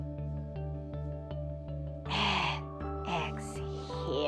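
A deep yoga breath drawn in and let out during a kids yoga session, a clear breathy rush rising over steady background music and then easing away.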